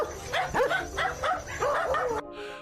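Dogs bark on a roadside trail camera at night, a near run of about six sharp yipping barks with whiny rising pitch, then an abrupt cutoff to a quieter hiss.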